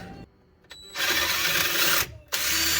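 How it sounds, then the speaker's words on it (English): A power drill with a 9/16-inch bit whirs in two bursts, a short pause between them, close and loud as it bites into metal on a first-generation Cummins truck's sway bar end link mount. "Take 2 with the 9/16 drill."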